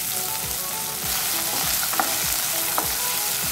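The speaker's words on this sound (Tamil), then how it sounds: "ஃபஸ்ட்டு பட்டாணியை போட்டு வதக்கிக்கலாம்." Peas, onion and tomato sauté in a pan for rava kichadi, a steady close sizzle with occasional stirring scrapes and no talk.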